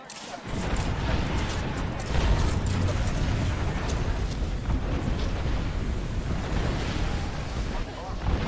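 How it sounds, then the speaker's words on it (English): Heavy airstrike explosions in the shooter Apex Legends build into a continuous, rumbling barrage of booms. A loud surge comes early, and the thunder stays steady throughout, with voices faintly underneath. "We've got an airstrike coming in."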